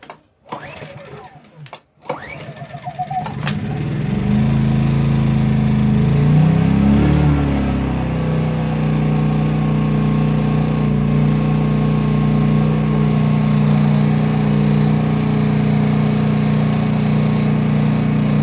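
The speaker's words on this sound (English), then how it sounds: "if you guys can hear me talking over the sound of the exhaust or engine" A small engine starts after a few sputtering pulls, then settles into a steady, loud running drone with exhaust rumble, a voice talking faintly underneath.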